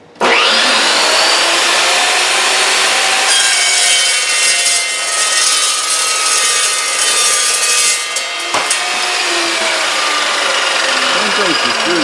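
An Evolution EVOSAW380 saw cuts through metal tubing with a loud, steady, close grinding whine that holds for about twelve seconds, with only a brief dip near the end.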